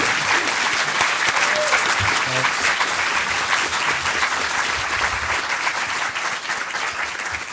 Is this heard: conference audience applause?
yes